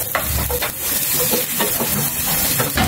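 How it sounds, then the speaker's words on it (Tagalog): Ginger browning in a pan for pork binagoongan, giving a close, steady sizzle and hiss with scraping stirring strokes throughout. "inuna na natin yung luya. I-brown lang po natin ito."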